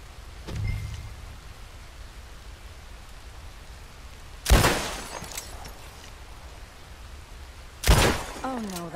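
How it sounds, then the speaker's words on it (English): Gunshots in Red Dead Redemption 2, three sharp, loud reports spaced several seconds apart, each with a short echoing tail, over a quiet outdoor ambience. "I'll shoot a few more this time."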